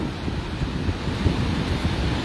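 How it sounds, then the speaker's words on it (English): A steady, broad roar of ocean surf on the beach at Cattlewash and Bathsheba, continuous and fairly loud with wind buffeting the microphone throughout, no speech. "the roar of the ocean will pick up"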